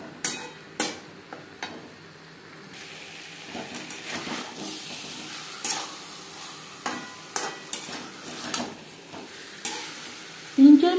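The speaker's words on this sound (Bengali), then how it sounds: "গ্যাসের ফ্লেমটাকে মিডিয়ামে রেখে 3-4 মিনিট মশলার সাথে আলু কষিয়ে নেব।" Potatoes with spices fry over a medium flame for kosha alur dum, giving a soft, steady sizzle broken by repeated sharp spatula scrapes and knocks against the pan.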